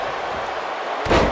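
A heavy leg-drop impact in the wrestling video game WWE 2K22: one loud, booming thud near the end, after quieter crowd-like background noise.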